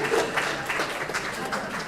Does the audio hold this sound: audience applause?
yes